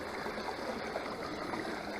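Water rushes steadily through a homemade backyard gold sluice carrying river sand, a continuous close broadband gush with no talking.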